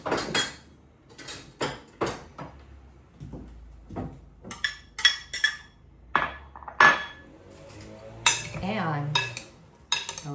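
A spoon clinks and scrapes against a bowl while mango is added to a red cabbage salad, with a string of separate sharp taps and knocks of varying loudness, close by and without speech.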